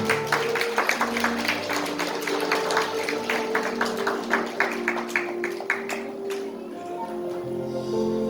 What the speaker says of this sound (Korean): 여러분들 뜨거운 박수 부탁드리겠습니다.